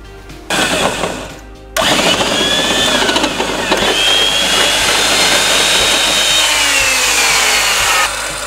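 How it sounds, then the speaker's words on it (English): A power drill whines steadily as it bores a center hole through metal for a brake master cylinder on a KE10 Toyota Corolla, loud and close, with a brief pause after a short first burst. "Now we're just going to drill the center hole"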